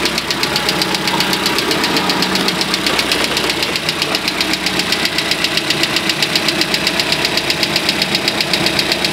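Car engine after a head gasket replacement, running loud and close with a rapid, steady metallic knocking that keeps an even rhythm throughout.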